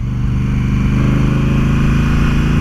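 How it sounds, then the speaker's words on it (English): A 2018 Honda CRF1000L Africa Twin Adventure Sports engine thrums through its standard exhaust, a loud, close, steady rhythmic drone while riding, with no talk over it. "Lovely note to the engine out of the standard exhaust on here."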